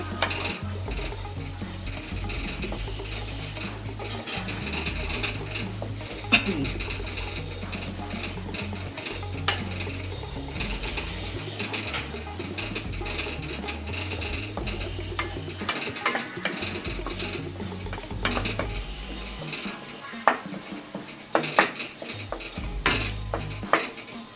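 Spice paste stir-fried in oil in a pan over low-to-medium gas while making a Bengali parshe fish dish with sour yogurt and fenugreek. Steady sizzling runs throughout, with scraping stirs and occasional clinks of utensil against pan.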